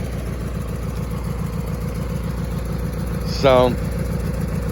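A mower engine idles with a steady, even low chug throughout, and someone briefly speaks over it near the end.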